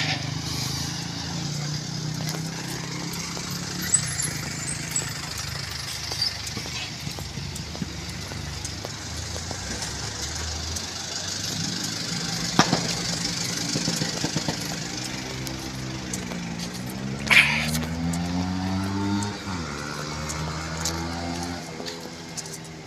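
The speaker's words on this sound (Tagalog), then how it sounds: "Puputok po yung kanilang motor, kakaiba. May paputok-putok pa." A motorcycle engine sputters and pops irregularly, with sharp backfire cracks and revving passes against a noisy outdoor background.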